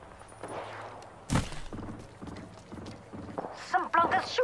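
Enemy gunfire in the video game DMZ: a sharp burst of shots followed by a run of steady, evenly spaced thumping reports, with a voice talking over the exchange.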